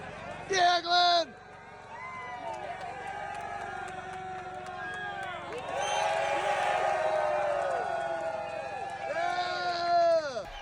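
A rally podium crowd caught on a cell phone, cheering and shouting with swelling roars and bursts of excited yelling, people talking and calling out throughout.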